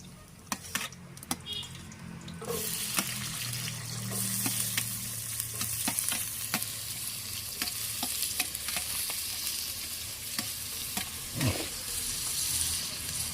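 Chopped onion sautés in hot oil for a spicy village-style Chilapi fish curry, a steady close sizzle punctuated by frequent sharp clicks and scrapes of a spoon stirring the pan, with no one talking.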